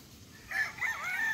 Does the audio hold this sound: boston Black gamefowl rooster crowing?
yes